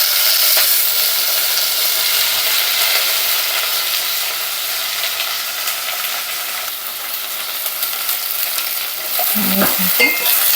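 Chopped tomatoes for tomato rasam sizzle loudly in a hot pan, a dense steady frying hiss with scraping stir sounds and a louder clatter near the end.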